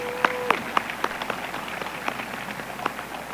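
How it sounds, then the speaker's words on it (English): Applause from a high school graduation audience fills the space, a steady wash of many hands clapping with a few sharper nearby claps standing out. "Let's give Dr. Watson a big round of applause."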